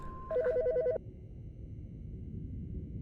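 A telephone rings inside the video game Autopsy Simulator, one short burst of rapid electronic trills lasting under a second, followed by quiet room tone.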